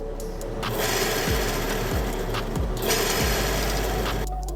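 A steady mechanical whir of a Modsaw arrow saw spinning a broadhead, with rhythmic grinding pulses and a constant low hum, no voices.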